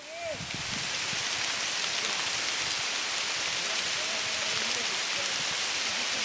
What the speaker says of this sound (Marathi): काय हा पाऊस